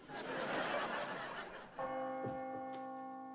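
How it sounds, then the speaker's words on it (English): A church bell strikes and rings out across a town square with a sustained, humming tone after a wash of hiss, somewhat distant and fairly faint. "I hear faint chimes from across the town square."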